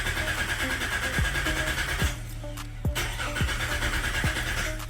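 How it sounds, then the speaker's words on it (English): A Nissan Y33 with a VQ30DET engine cranks repeatedly after the fuel pressure has been released, with several short starter bursts over a steady hum, and it never catches. "we're going to try to start the car. It won't start."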